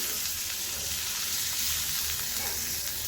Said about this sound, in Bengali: পেঁয়াজ আমি এই যে তেলের সাথে, মানে পেঁয়াজের সাথেই ভেজে নিচ্ছি।